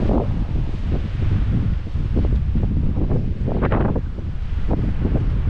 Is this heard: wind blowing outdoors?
yes